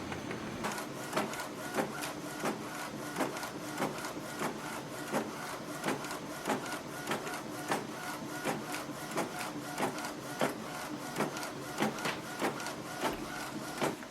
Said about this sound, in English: Automatically it will start the copy process.